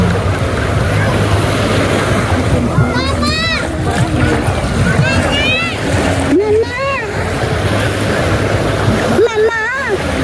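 Ocean waves wash continuously at a crowded seashore on New Year's Day, mixed with heavy wind buffeting the microphone, while people talk over the surf.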